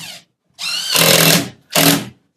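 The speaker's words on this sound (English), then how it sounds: "So place your first screw on the top." A power drill drives screws into Hardie cement board while it is fixed to a wall over framing for tile: a short whir, a pause, a longer loud grinding burst as the screw bites, then another short burst, all close up.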